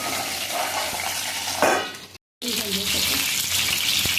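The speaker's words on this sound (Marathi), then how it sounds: "उलट करून घ्यायची, चांगली फ्राय करून घ्यायची." Stuffed brinjal fries in a pan with a steady close sizzle and hiss, a louder crackling burst as the pieces are turned, then a short gap before the frying continues.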